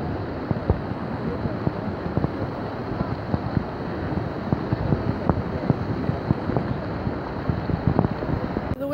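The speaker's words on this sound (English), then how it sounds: "The wind has died down the tiniest little bit" Steady wind gusting outdoors near the Washington Monument in Washington, DC, a broad continuous rush with buffeting on the microphone throughout, no talk heard.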